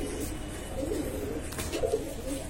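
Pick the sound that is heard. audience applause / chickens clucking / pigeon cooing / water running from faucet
pigeon cooing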